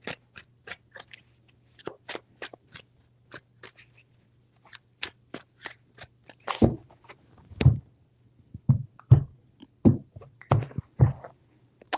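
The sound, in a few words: shuffling tarot cards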